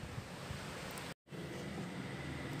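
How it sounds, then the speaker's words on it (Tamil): An electric mixer grinder blending raw mango chutney with salt and a splash of water, a loud continuous whirring roar that cuts out for a split second and starts again. "இந்த அளவுக்கு அரைச்ச பிறகு கொஞ்சமாக தண்ணி விட்டு அரைச்சிக்கலாம்"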